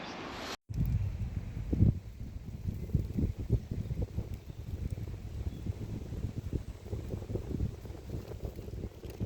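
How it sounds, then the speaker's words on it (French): Strong wind in a forest buffets the microphone in heavy low rumbling gusts, continuous and loud throughout, with no voices. "Il y a énormément de vent."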